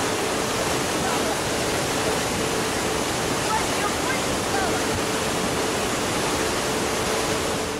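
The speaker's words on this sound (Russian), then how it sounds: "Только взгляни на этот свирепый поток воды, на который туристы натолкнулись в горах Алтая." A fierce torrent of floodwater in the Altai mountains, released when a heavy downpour overfilled a lake and burst a dam, roars as a loud, dense, unbroken rush of water with no pauses from start to finish.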